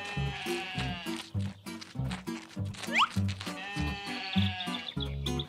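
Animated 3D cartoon sheep bleat repeatedly over a steady rhythmic beat, the wavering cries close and loud, recurring throughout.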